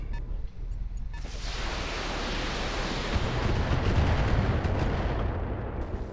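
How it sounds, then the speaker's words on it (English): Missile turrets firing in the mech strategy game Battletech: a broad, roaring salvo of launches and impacts swells after a short quiet start and stays loud and rumbling to the end. "Got these missile turrets spamming garbage at me every turn."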